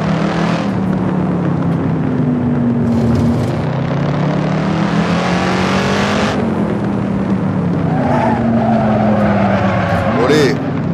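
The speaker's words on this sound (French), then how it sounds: "Et la Shelby qui a envie de faire des têtes à queue" A Shelby Cobra 427 on the New York Safety Track roars loudly and continuously as its tail slides out, with tires squealing through the skid near the end; a voice talks over the engine noise.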